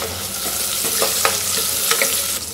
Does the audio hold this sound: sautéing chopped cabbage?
yes